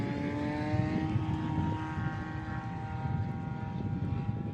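A STOL aircraft at the Rocky Mountain STOL competition takes off, its propeller engine droning steadily with a rising whine under broad outdoor rumble.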